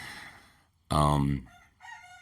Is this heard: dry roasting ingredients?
no